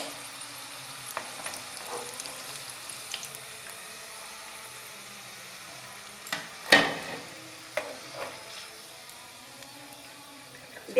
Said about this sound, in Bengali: এভাবে আমি বাকি সব রোলগুলো ভেজে নেব।